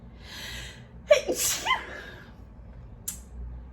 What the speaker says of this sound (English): I feel sneeze coming